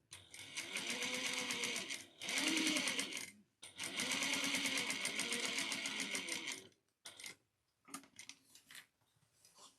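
Sewing machine top stitching a recessed zipper pouch, running in several bursts of rapid steady stitching separated by short pauses, with a few brief stop-start runs toward the end.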